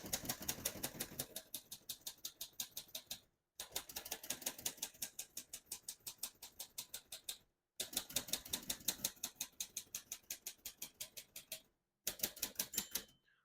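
A 1937 Royal De Luxe portable typewriter types in rapid even bursts of key strikes, four runs separated by short silences, close and crisp; no margin bell stands out clearly.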